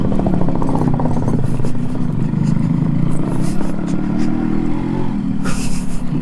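A Yamaha RX 100 two-stroke motorcycle runs close by with a loud, rattly engine note that idles and rises slightly, with some clatter and wind noise, and no talking.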